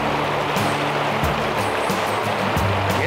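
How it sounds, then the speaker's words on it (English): Steady rushing water from a waterfall near Telluride fills the clip, a continuous loud roar nearby, with no voices. "You guys see that? Waterfalls, all this stuff."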